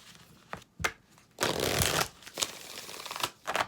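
A Goddess Power oracle card deck is shuffled by hand in several quick riffling bursts, with one longer, louder shuffle in the middle and short pauses between, close and with no talking.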